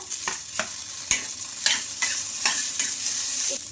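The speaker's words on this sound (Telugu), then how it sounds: "ఈ మిర్చి దాంట్లోనే ఈ పల్లీలు కూడా బాగా ఫ్రై అయిపోవాలి" Peanuts, green chillies and mint fry and are stirred in a pan, with steady sizzling broken by sharp, irregular scrapes and clacks of the spoon against the metal, close and fairly loud.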